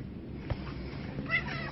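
A white shelter cat with markings, about 9 pounds, gives a couple of soft, short meows close by over a low room hum.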